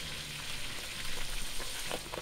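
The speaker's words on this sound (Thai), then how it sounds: "ทอดให้กรอบโดยการสังเกตฟองน้ำมันนะครับ" Duck heads deep-frying in hot oil, a dense, steady crackling sizzle up close with rapid popping bubbles, continuous and loud throughout with no voices.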